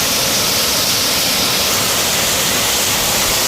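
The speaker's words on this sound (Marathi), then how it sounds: "केवढा जोरात पाऊस आहे बघा." Torrential monsoon downpour hammering down in a continuous loud hiss and roar, close and unbroken, no talking heard.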